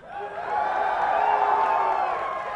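Crowd at a League of Legends esports match between Rioters and Pros at an Arab venue, a sustained swell of cheering and whooping that rises and holds steady.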